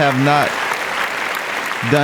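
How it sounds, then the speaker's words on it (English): Applause for a guest at the close of a podcast interview, a brief even wash of clapping between bursts of a voice at the start and end. "Let's give a round of applause for our guest."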